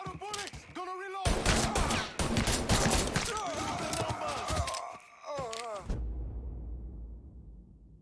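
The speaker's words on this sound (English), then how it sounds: "It's shotgun time!" Shotgun fire in the video game Mafia 3, a series of loud heavy blasts in quick bursts mixed with shouting and groaning voices, fading to quiet at the end.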